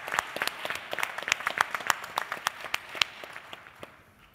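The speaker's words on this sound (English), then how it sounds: "let's have a big round of applause for them" Applause for panelists at a financial services conference in Mauritius, a thinner crowd clapping with distinct individual claps audible, moderately loud and fading out toward the end.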